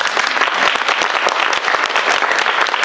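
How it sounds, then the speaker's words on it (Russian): Audience applause at a network-marketing company seminar in Kharkiv: dense, steady clapping from a full room, loud and continuous throughout with no talk over it. "Аплодисменты"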